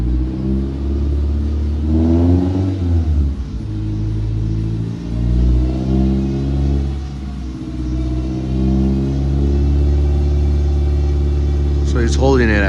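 Car engine held at steady revs during a state smog emissions test on a five-gas analyzer, a loud continuous droning rumble that rises and falls slightly, with people talking over it.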